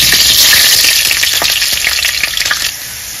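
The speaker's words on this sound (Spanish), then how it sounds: "Y que chille la cazuela, si no, no quedan buenos estos frijoles." Onion and serrano chiles sizzle loudly in a clay cazuela, a dense, steady crackling hiss that runs close and unbroken before easing slightly at the end.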